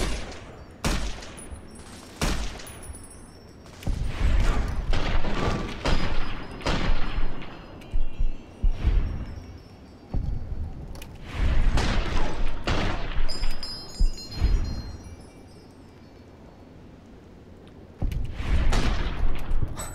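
Bursts of gunfire from a New Vegas: Dust game session, loud repeated volleys and single shots arriving in clusters with short lulls, sharp booming cracks spread across the stretch.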